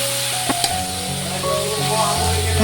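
Finely chopped onion and tomato frying in a pan for a Malvani jackfruit seed bhaji, a soft steady sizzle with a few light clinks of stirring, close and without talk.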